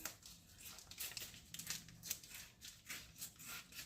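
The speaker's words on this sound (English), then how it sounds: "I'm going to go ahead and cut my bacon in half with some scissors here." Quiet, repeated snipping of scissors cutting bacon in half, a steady series of crisp little cuts close to the microphone.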